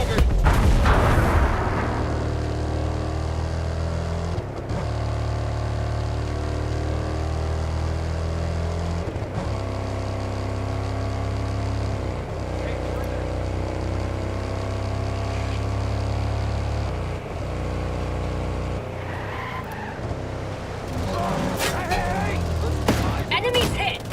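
Sustained heavy gunfire and booming explosions in the tactical shooter Ghost Recon Breakpoint, a loud continuous barrage with rumbling low-end blasts, dropping off briefly before bursts of shots return at the end.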